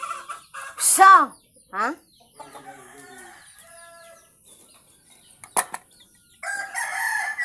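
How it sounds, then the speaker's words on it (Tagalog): Hens in a Zamboanga, Philippines yard cluck and squawk loudly in bursts while laying eggs, with a rooster-like cackle early on and someone speaking briefly amid the noise. "sobrang ingay ng mga manok dahil nag-iitlog po yung iba"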